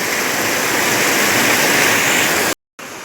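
A steady, loud roar of rainwater cascading down, like a nearby waterfall, in the village countryside, continuous and unbroken apart from a brief moment of silence near the end.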